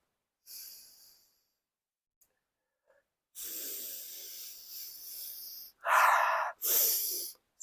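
A few close-up sniffs and breathy inhalations at a glass of beer, separated by short silences, ending with two sharper, louder snorting sniffs.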